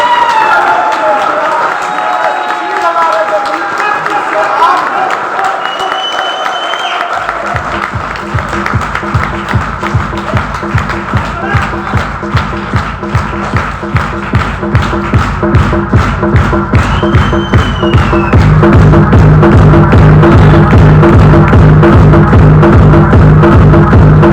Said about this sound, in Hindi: तो एक ताली बनती है सर